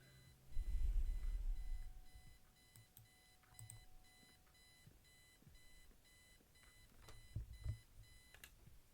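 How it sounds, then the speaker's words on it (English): An alarm clock in the game Kathy Rain beeps in a steady, regular pattern of short repeating tones, fairly quiet, with some low thumps and rustling beneath and no speech. "Since it's such a long drive, I set the alarm so you won't miss the funeral."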